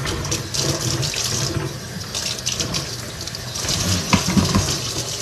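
Water runs and splashes while an afro is wet down to loosen it into curls, a steady close rushing spatter with brief louder splashes, no talk.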